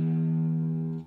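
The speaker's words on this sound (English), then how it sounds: "So a normal guitar sounds like this." A normal six-string electric guitar played through an amp sounds a single sustained, steady note that rings evenly for about a second before cutting off, with no talk.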